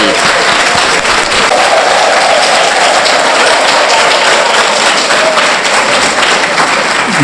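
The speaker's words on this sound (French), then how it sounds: "Je voudrais déjà que vous applaudissiez une fois encore pour ce ministre très engagé" A large audience claps loudly and continuously for the health minister, a thick, even roar of applause from start to finish with little variation.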